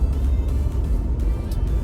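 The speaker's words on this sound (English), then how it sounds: "The engine, the V6 engine, it is responsive." A 2024 Jeep Wrangler Sahara with a V6 engine driving along, producing a low, steady engine rumble with faint road noise and no voices.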